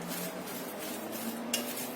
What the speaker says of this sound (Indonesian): Kita aduk lagi sampai semuanya tercampur rata.